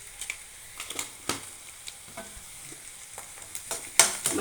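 Chopped onions with a little salt sautéing in a pan, quiet sizzling broken by intermittent scraping and stirring strokes, with a louder clatter near the end.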